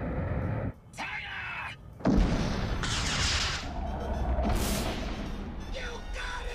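Artillery cannon fire in a Transformers cartoon, heavy booms and bursts mixed with other effects and shouting character voices, loud and close.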